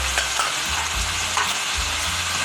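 Okra masala with salt, red chili, coriander and turmeric powders is stirred in a frying pan, a close steady sizzle broken by repeated spoon scrapes, with no talk.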